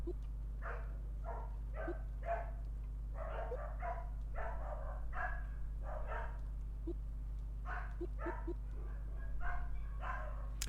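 Several dogs bark outdoors in repeated bursts with short gaps, moderately distant, over a steady low hum, with no talk.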